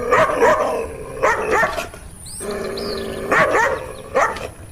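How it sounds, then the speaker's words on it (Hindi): A dog barks in a horror story soundtrack, loud close barks in clusters with a brief pause midway, set over eerie background ambience. "अजी, ये हमारा कुत्ता कल्लू ही है।"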